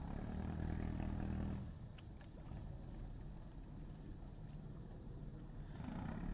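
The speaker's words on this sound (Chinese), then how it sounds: "船这个船启动的声音听到了， 这个马达声音听到吧？" A small river ferry's motor starts up and runs with a steady low engine drone, louder at first and then settling to a continuous rumble on the water in rural Qingpu, Shanghai.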